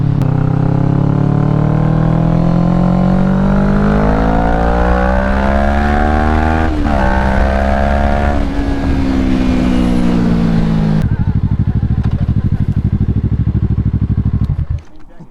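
A Kawasaki Ninja motorcycle rides up close and loud, its engine note climbing steadily under throttle before settling into a lower, rougher idle that fades out at the end.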